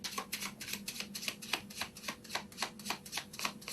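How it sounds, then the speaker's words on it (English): A deck of playing cards given a thorough shuffle, a steady run of rapid riffling and snapping card flutters, close and continuous with no talking. "if you take a deck that is like that and give it a thorough shuffle"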